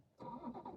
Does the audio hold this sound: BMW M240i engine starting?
yes